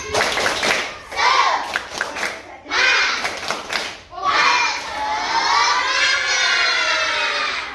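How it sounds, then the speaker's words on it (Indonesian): A group of children shout and clap together in a classroom, bursts of rhythmic clapping and chanting broken by short pauses, ending in a long sustained cheer. "Ya, tepuk semangat."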